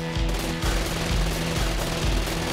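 A sniper rifle and automatic weapons blast away in the video game Gat Out of Hell, loud continuous gunfire with repeated heavy bursts filling the whole stretch, no talking.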